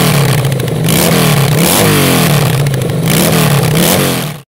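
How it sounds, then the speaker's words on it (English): The V-twin engine of a 1996 Honda VLX motorcycle, built as a bobber with a root-beer peanut tank, revs loudly and close up, its steady low throb rising and falling through several throttle blips. "Give it a little rev."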